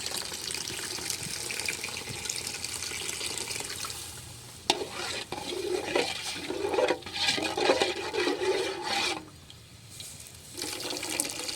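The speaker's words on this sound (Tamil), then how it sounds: "தண்ணி ஊற்றிக்கலாம் நம்ம இப்போ." Water pours into a pot of fish curry cooking over a wood-fired stove outdoors, a steady splashing rush that swells into bubbling and sizzling before cutting off near the end.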